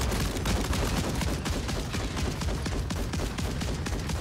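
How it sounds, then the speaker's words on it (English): Several players in Warzone firing at the same time, a dense, continuous burst of overlapping gunfire that stays loud and steady throughout without any talk. "We all have to shoot at the same time."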